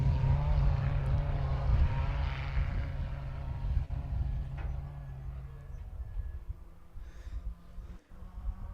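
A class 10 off-road race car motoring through a pine forest during the Pines Enduro: a deep, steady engine drone, strongest at first, then fading as the car pulls away, leaving a quieter rumble.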